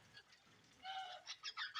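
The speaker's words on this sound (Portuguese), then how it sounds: "E um som lindo da natureza aí, com o canto dos papagaios aí, verdadeiro." Parrots call in the morning at a small farm among eucalyptus trees, with several bright, rapid squawks and chirps at moderate distance that grow busier toward the end.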